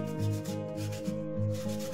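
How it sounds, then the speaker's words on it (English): A painted Dollar Tree craft piece is sanded by hand in a few steady back-and-forth strokes, a close, soft rasping rub repeating rhythmically. "so I ended up sanding it down a bit"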